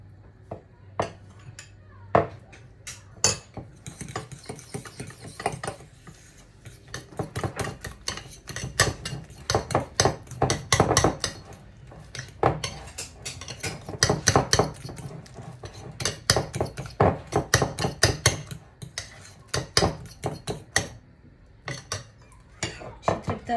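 Spoon clatters and scrapes against a bowl while a dumpling batter for soup is stirred, a dense run of sharp clicks and knocks with brief pauses, close and fairly loud, no talk.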